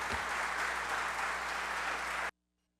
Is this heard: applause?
yes